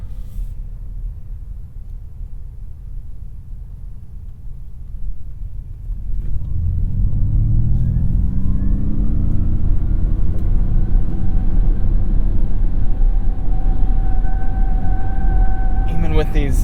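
A 2021 Ford Mustang Mach-E electric car accelerates hard up an on-ramp in unbridled mode, a steady low rumble giving way to a rising motor whine with road and wind noise building, while someone talks.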